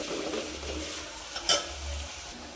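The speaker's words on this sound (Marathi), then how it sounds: "आता आपण हा चिरलेला बारीक कांदा टाकून घ्यायचा आहे, त्याला पण छान असं पटवून घ्यायचं" Finely chopped onion stirred into browned ginger-garlic paste in a pan for spicy-sour toor dal, giving a steady low sizzle with a brief scrape of a spoon midway, no talking.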